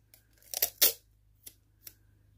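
A roll of plain adhesive tape being pulled off with short ripping bursts, loudest near the start and followed by two brief, quieter tugs against a faint steady hum.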